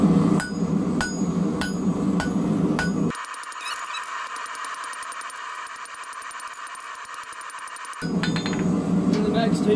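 Blacksmith hammering hot steel ground anchor corners, sharp ringing metallic strikes at the start and end around a stretch of hissing noise in the middle.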